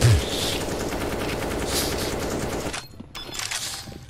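Rapid automatic gunfire rattles continuously in a Counter-Strike match, dense and loud, then breaks off near the end with a couple of brief bursts.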